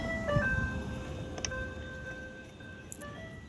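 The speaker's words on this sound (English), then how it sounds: "I had the ice cream truck honked at me." An ice cream truck plays its tinny melodic chime from some distance, steady tonal notes drifting over low outdoor background rumble, with no talking.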